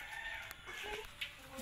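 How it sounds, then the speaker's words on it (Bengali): Hen clucking in a farmyard, a few short faint clucks over a constant background hum, with no talk. "মুরগি বা হেন?"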